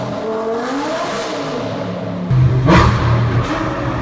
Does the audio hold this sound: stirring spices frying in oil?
no